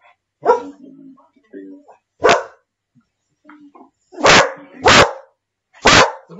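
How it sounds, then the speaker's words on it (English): A dog barks loudly and close by, giving about five sharp barks spaced irregularly over several seconds, with people's voices heard between the barks on a home video call. "Crazy dog."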